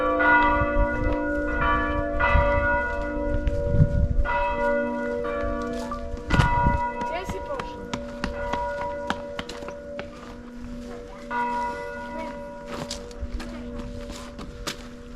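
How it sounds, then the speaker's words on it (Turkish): Church bells in Cetinje, Montenegro ring out in a slow, resonant sequence of strikes, each tone lingering and overlapping the next, fairly close and loud over faint outdoor ambience. "Kilise çanları çalıyor."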